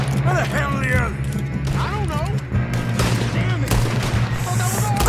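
Gunfire in the Red Dead Redemption 2 video game during a train robbery, with repeated shots and mechanical clatter under game music and character voices, fairly loud throughout.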